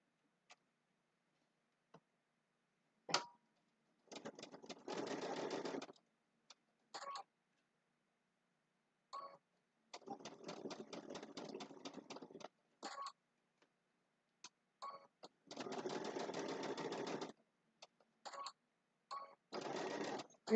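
A sewing machine stitches a Christmas table runner block in several bursts of steady, rapid needle chatter, separated by pauses with small clicks as the fabric is adjusted.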